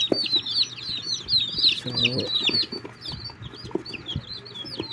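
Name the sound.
newly hatched Dumpo Shamu chick clucking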